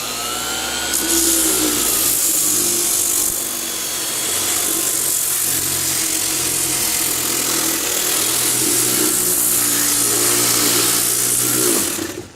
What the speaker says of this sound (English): I'm going to start with a fairly aggressive sandpaper. This one's a 100 grit.